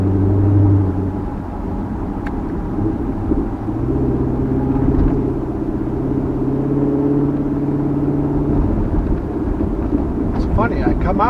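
A Corvette Carbon 65 Z06 with a P0300 misfire fault rumbles deep and close on an open road, its engine note rising and holding as it accelerates. The sound stays loud and continuous throughout.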